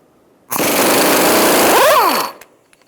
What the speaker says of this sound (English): we're going to use a 29mm socket, and we're going to undo our axle nut.